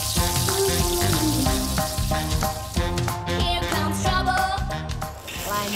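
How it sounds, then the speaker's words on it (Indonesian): Flour-coated patin fish fries in hot cooking oil, a dense crackling sizzle with popping bubbles throughout, mixed with background music. "Nah, setelah itu kita cemplungin ke dalam minyak goreng panas, guys."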